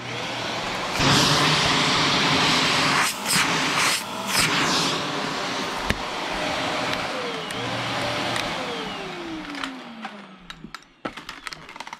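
A Shark Navigator vacuum cleaner motor runs with a loud, steady whooshing roar, then spins down near the end, its pitch falling before it fades to near silence.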